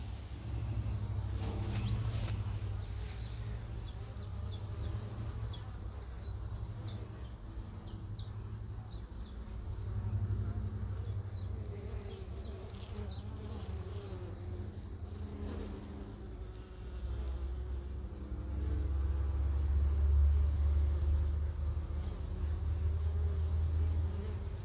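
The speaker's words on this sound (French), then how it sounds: "Je vous laisse encore observer les allers-retours des abeilles" Honey bees fly in and out of a hive with faint, scattered buzzing. A steady low outdoor rumble sits underneath, and a few light chirps come through in the background.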